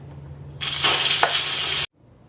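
Steam hisses loudly from an Instant Pot during a manual pressure release after cooking corned beef, a steady broadband rush that starts abruptly and cuts off sharply after about a second and a quarter, over a low background hum.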